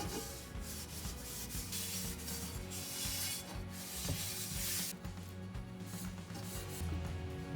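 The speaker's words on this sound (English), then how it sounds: "Now we're gonna get the oil all over the skillet," Cloth rag rubbing cooking oil over a cast iron skillet during restoration, a steady, close scrubbing and swishing with rhythmic strokes, alone without talk.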